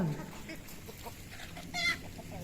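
Chickens in a home garden feed on overripe papaya with soft, low clucks and a brief louder squawk near the end.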